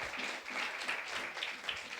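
A church congregation at Sunday worship gives a big round of applause, a steady wash of many hands clapping that stays fairly faint and even for a couple of seconds.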